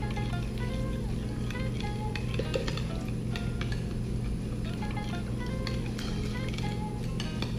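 A spoon stirs sugar into a yeast mixture in a bowl with light, rapid scraping and clinking taps. A low background hum runs underneath and a voice talks over it.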